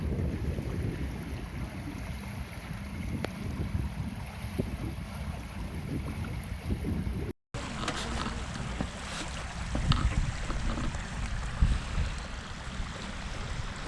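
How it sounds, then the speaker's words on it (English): Water laps and splashes steadily at the shore of Pocharam Reservoir under constant wind buffeting, with a brief cut partway through and no talking. "it's so satisfying to listen to the wave sound"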